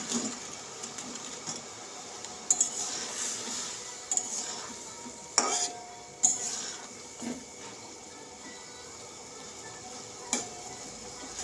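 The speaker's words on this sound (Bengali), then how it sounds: "পাঁচ মিনিট আমি এভাবে ফুটিয়ে নেব, রসেতে বড়াগুলো ফুটিয়ে নেব।" Fritters simmer in date palm jaggery syrup with cardamom, giving a soft, steady bubbling hiss broken by a few brief clinks and taps of a utensil against the pot, all fairly quiet and close with no voices.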